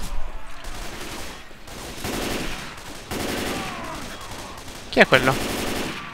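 Bursts of rapid automatic gunfire in Left 4 Dead 2, several sustained volleys separated by short gaps, with a sharp louder burst near the end and a brief spoken question partway through.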